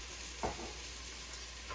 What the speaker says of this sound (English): first I'm going to add the garlic, turmeric, and ginger. And just get that started toasting in the oil